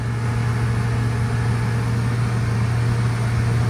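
A car engine is held at high revs, around 4,000 RPM, while the coolant system is bled. It makes a steady, loud, close-up drone with an even tone throughout and no pauses.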